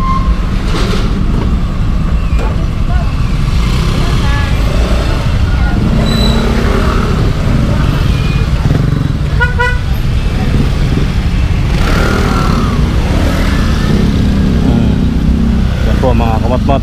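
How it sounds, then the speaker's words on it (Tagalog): Busy city road traffic in the Pasay area, with engines of cars and motorcycles droning close and loud throughout, passing vehicles swelling and fading, a brief horn toot, and people talking over the noise. "traffic po tayo"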